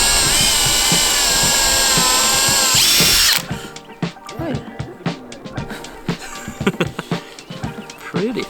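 A power drill whines loudly and steadily while boring holes through a camper van roof for a MaxxFan installation, then stops abruptly, leaving clattering handling sounds and brief voices.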